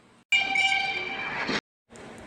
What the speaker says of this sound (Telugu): ట్రైన్ హార్న్ విన్నారు కదా, భలే ఉంది